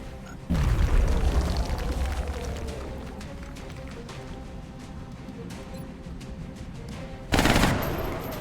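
In a tactical video game, a frag grenade detonates in a heavy boom, followed by a rolling rumble and scattered gunfire, then a second sharp blast near the end.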